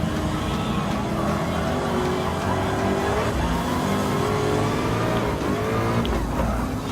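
A Ford GT LM Spec II race car in Gran Turismo Sport revs hard under sustained throttle, its engine note rising and falling through gear changes, with tires squealing briefly through the corners.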